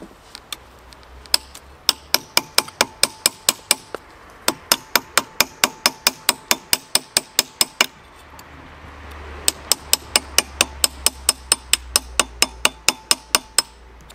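Steel hammer striking a large flat punch against a locking tab on a classic pre-A+ Mini engine, sharp metallic blows repeating at a fairly fast, even rhythm in two long runs with a short break between, close and loud.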